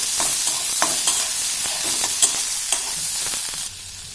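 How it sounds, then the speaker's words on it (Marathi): Tomatoes sizzling and frying in hot oil in a pan for masala paneer bhaji, with steady broadband hiss and scattered scraping stirs and small pops throughout, fairly close. "टोमॅटो ही छान 2-3 मिनिट आपल्याला याचं मिक्स करून घ्यायचं आहे तेलामध्ये"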